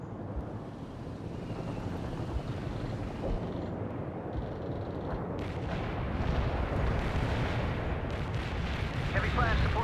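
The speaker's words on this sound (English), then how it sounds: "An artillery barrage." Artillery barrage in the real-time strategy game World in Conflict, a dense, continuous rumble of distant shelling and explosions building slightly louder over time, with battlefield din underneath.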